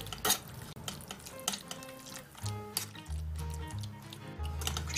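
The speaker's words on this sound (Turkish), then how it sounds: "telememizi önce şöyle çatal yardımıyla küçük parçalara ayırıyoruz" A fork mashes soft cheese curd from homemade strained cheese against a strainer, making close, wet squishing and scraping strokes that come in irregular bursts with a few light metallic taps.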